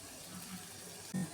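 Water is poured into a pan of chopped green beans being cooked for a Kerala stir-fry: a low trickle, then a brief, louder splash near the end of the short moment.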